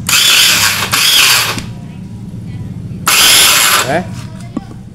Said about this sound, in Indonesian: dinamo di sini muncul suara ekstrim, lumayan sangat kasar di bagian dinamonya